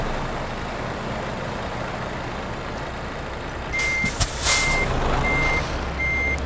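An IVECO truck backing a trailer into a tight parking spot hums steadily with engine rumble, then its reversing alarm starts, sounding regular evenly spaced beeps over the idling engine with a brief air hiss.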